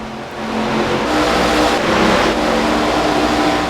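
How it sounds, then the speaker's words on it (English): Race car engines in the iRacing ARCA Menards Series at Michigan drone steadily and loudly, a continuous high roar of cars at speed with slight swells as they pass. "Here's the 14 car of Carter Whalen"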